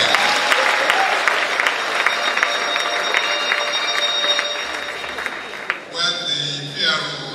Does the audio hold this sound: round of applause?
yes